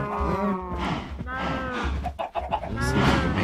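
Minecraft chickens clucking amid a farm pen of Minecraft cows, with mooing and clucking overlapping in a busy, continuous run of game animal calls, close and fairly loud, with no talking.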